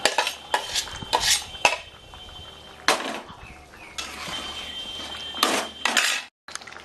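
Fish and eggplant go into a pan with boiled potato for a Bengali prawn curry, followed by scraping metal utensil strokes and clattering stirs against the cookware in irregular bursts, close and alone with no talk.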